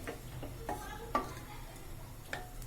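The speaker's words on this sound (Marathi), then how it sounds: "मी थोडं हलवून घेते" A spoon stirs potato and pea curry in a pot, making faint, irregular scraping taps and clicks over a quiet background.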